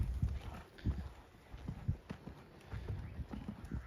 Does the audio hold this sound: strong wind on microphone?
no